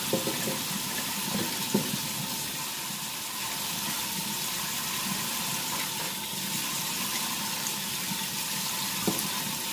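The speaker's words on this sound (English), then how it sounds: "Have to rinse it very well. Rinsing." Running water rinsing catfish in a pot, a continuous broadband splashing and hiss with occasional faint clinks, close and steady throughout.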